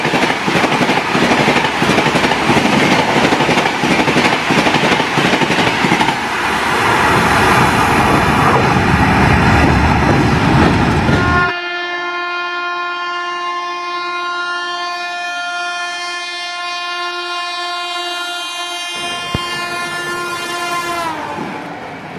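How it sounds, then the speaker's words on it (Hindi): A New Delhi–Mumbai Central Tejas Rajdhani Express hauled by a WAP 7 electric locomotive rushes past at about 130 km/h, a loud close roar and rumble that gives way to a long sustained horn blast as the train runs on. "New Delhi Mumbai central Tejas Rajdhani express 130 per hour WAP 7 locomotive."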